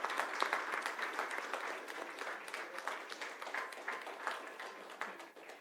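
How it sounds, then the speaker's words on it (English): Sustained applause from a conference audience honoring the session's speakers, dense steady clapping from a sizable crowd that holds at an even level and fades slightly at the end. "I would like everyone to give a round of applause for our speakers here."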